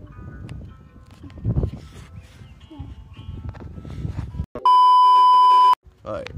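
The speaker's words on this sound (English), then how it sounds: "Somebody's calling." An incoming call makes a phone give one loud, sustained electronic ring tone that cuts in after chatter among several people and stops abruptly.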